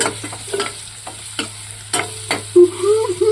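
Ground spice paste frying in oil for a goat spleen dish, stirred with scrapes and taps of a spoon against the pan, then a brief whistling hiss near the end, close and moderately loud.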